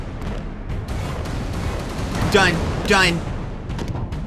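Cannon monster firing in the video game Alice: Madness Returns, with booming blasts and game effects running under a player's speech.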